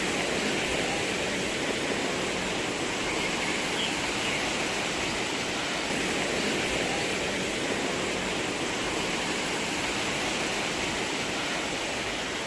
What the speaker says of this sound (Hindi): यहाँ से पानी इतना तेज बह रहा है